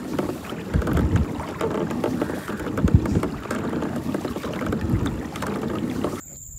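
A kayak paddled on a mountain lake under a hot sun, with soft rhythmic paddle strokes and water swishes close to the microphone, light wind noise throughout, and no talking.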